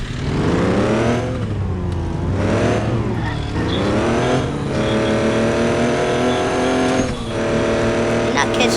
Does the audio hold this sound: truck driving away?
yes